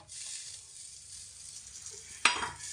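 Dry fruits stirred into roasted semolina in a pan for jaggery halwa, giving a steady soft sizzle and frying hiss with light scraping, then a sharp clink of a spoon against the pan near the end.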